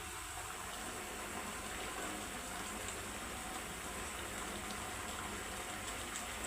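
Sweet rice dumplings simmer in jaggery syrup for Vinayaka Chavithi payasam, giving a continuous, even bubbling hiss that stays constant and close throughout.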